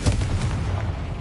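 A Confringo spell explosion in Hogwarts Legacy: a short, booming blast with rumbling low-end decay, loud and close, heard on its own without speech.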